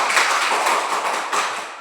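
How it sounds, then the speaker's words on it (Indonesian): A class of primary school students claps their hands together in a dense, steady burst of applause that lasts about two seconds before easing slightly at the end. "Benar, tepuk tangan dulu."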